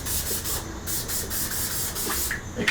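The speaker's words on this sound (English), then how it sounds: "Hit them with the old spray." A spray bottle hisses repeatedly onto a goat in rapid, rhythmic bursts, close and steady with a rough rubbing texture.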